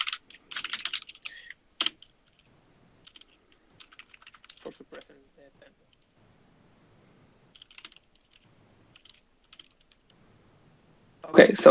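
Someone types a comment on a computer keyboard: soft bursts of quick key clicks in irregular runs with long quiet pauses between them, ending in a louder burst of sound.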